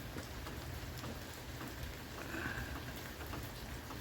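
Rain falls steadily in a garden with apple trees and vegetable beds, a faint, even patter of drops landing on surfaces with no voices.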